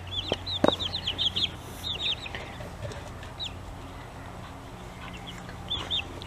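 A rescued robin gives short, high chirping calls in scattered bursts over steady background noise, while people talk softly nearby.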